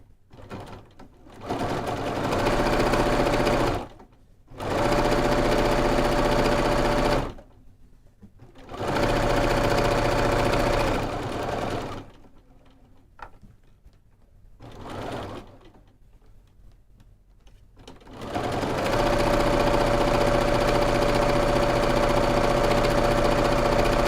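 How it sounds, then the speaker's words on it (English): A sewing machine top stitches a quilting project with a longer stitch length, running in loud bursts of rapid mechanical stitching separated by short pauses, then a long continuous run at the end. "start on the end that's open and stitch down that, and then I'll finish stitching all the way around."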